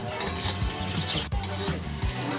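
Ginger paste, salt and turmeric being stirred in a pan, a dense, close scraping and sizzling with a steady rhythm of spatula strokes throughout.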